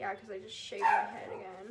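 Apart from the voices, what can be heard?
dog barking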